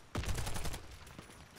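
Rapid automatic gunfire from a first-person shooter, Warface, on the Cross River map: a close, dense burst of shots lasting under a second, then a couple of scattered follow-up shots fading out.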